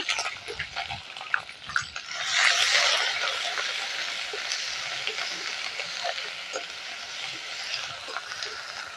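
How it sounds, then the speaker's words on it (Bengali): Onion paste and garlic-ginger paste hit hot oil in a pan for a village-style bottle gourd kofta curry, bursting into a loud, close, continuous sizzle that swells and then holds steady, with occasional stirring scrapes. "এখন পেঁয়াজ বাটাটা দিয়ে দিচ্ছি রসুন আদা বাটা দিয়ে দিচ্ছি"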